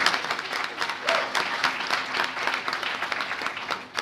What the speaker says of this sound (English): Let's give Gene Sherwood a round of applause, please.